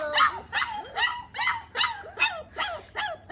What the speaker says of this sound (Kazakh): Мына 2 күшік бізде.